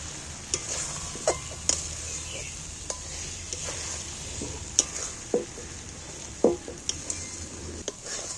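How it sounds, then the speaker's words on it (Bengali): Beaten egg stir-fried in a pan, giving a steady sizzle with a string of sharp spatula scrapes and clinks against the metal at an uneven pace. The sound is close and has no talk over it. "এটা কিন্তু নাড়তে দিয়ে ভাজা হয়ে যাবে এই ডিমটা ভাজতে ভাজতে"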